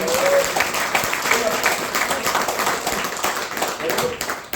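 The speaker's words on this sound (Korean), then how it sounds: "뜨거운 박수 보내주세요" A church congregation applauds during a Sunday worship service, with steady, dense clapping filling the room for several seconds, close and fairly loud, while a voice speaks over it.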